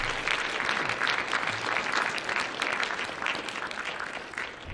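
A convention crowd at a fan panel gives a loud, dense round of applause, many hands clapping steadily at close range before it starts to fade slightly toward the end.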